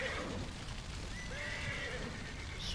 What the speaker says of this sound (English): Just trying to let these horses go.